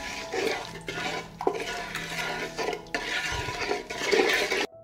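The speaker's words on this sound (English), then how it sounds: "I will stir and wait for the marinade to boil." Marinade being stirred in a pan on the stove, the utensil making scraping, clinking strokes against the metal in a steady rhythm at close range, with no one speaking.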